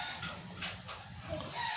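Hungry chickens clucking in the background at an outdoor dirty kitchen, a steady busy murmur of fowl under broad noise.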